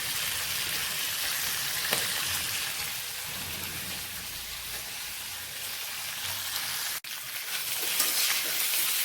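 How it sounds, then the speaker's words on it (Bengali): Potatoes fry with spices in a pan for a home-cooked aloo dum, giving off a steady crackling sizzle with occasional stirring scrapes. The sound is continuous and close, with a brief dropout near the end and no talking. "তো মশলা দিয়ে আলু কষানো আমার কমপ্লিট।"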